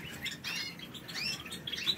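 Ringed aviary birds kept by a breeder chirp in quick bright bursts, several overlapping high tweets and short trills repeating through the moment, fairly close and moderately soft with no voices.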